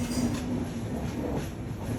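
A passenger train on the Kochi to Hosur route pulls into the station with a close, steady, loud rumble of wheels and carriages, with no voices.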